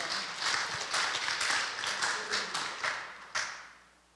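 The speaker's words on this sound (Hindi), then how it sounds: "क्यों ना जोर से ताली पहले बजाओ" Congregation at a Sunday Hindi church service clapping loudly, a dense, steady burst of many hands lasting several seconds with a final sharp clap before fading out.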